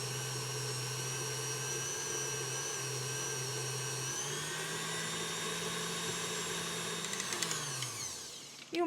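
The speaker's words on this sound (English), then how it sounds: "Cream this together with electric mixer to avoid sugar from spilling out." An electric mixer creams sugar for red velvet cake batter at high speed, a steady loud motor whine with bright harmonics that shifts pitch upward midway as the speed rises, then winds down near the end.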